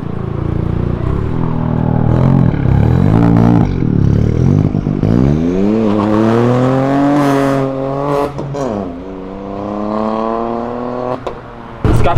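A Volkswagen Jetta fitted with a new sporty exhaust revs hard, engine pitch climbing and falling through several loud, close pulls with raspy crackles and pops between throttle blips.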